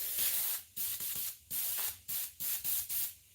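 Ink is sprayed with a sprayer in a series of about eight short, sharp hissing bursts separated by brief pauses, close and fairly loud with nothing else heard.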